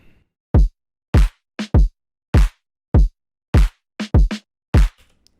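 Punchy kick and clap hits form a sparse beat processed through a clipper, each hit short and crisp with silence between, ending with a faint tail.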